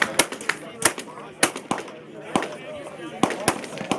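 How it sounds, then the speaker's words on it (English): A triple-barrel shotgun fires on an outdoor range at a SHOT Show range day. Sharp, loud blasts crack one after another in an uneven rhythm, mixed with other shots on the line, while people talk nearby. "Triple barrel shotgun."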